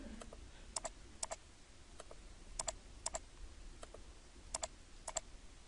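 Sharp computer mouse clicks while drawing in AutoCAD come as close, crisp ticks, often in quick pairs, spaced irregularly over a quiet room background.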